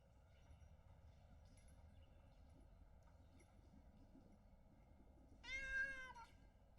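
A house cat gives one clear, drawn-out meow near the end, standing out close and loud against a quiet, low background murmur.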